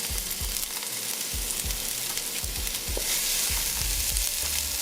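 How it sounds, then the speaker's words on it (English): Aromatics including pimento peppers and chopped shadon beni sauté in hot oil for curried seim and aloo, giving a steady loud sizzle and fry with repeated stirring scrapes and knocks. "So it's the process of sauteing aromatics in hot oil."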